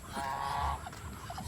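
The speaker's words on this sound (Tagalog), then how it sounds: "May bago tayong pabo." A single short, hoarse honking call from a turkey sounds close by on a farm, followed by faint outdoor background noise.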